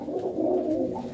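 Pigeons kept by a fancier in Ludhiana give a soft, low, continuous cooing, a close rolling burble lasting about a second with no voices over it.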